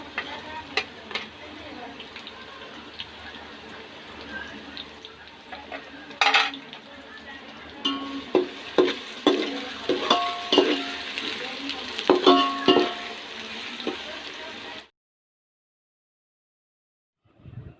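Onions that have turned slightly brown frying in a pan with three spoons of ginger garlic paste, a steady loud sizzle broken by repeated clinks and scrapes of a spoon stirring against the metal, before the sound cuts off abruptly.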